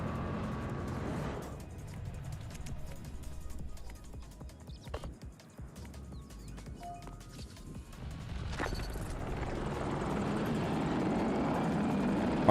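A helicopter in the video game Battlefield 6 produces a continuous low rotor drone with crashes and mechanical clatter, steady and fairly loud throughout, building toward the end.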